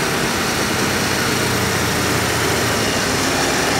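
A Dodge Dart car engine runs and idles steadily, a constant close, dense rumble with no breaks or revving and no voices.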